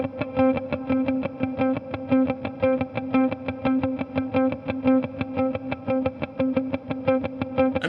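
Electric guitar with delay and modulation effects playing a repeating riff of plucked notes, echoing steadily and loudly with no voices.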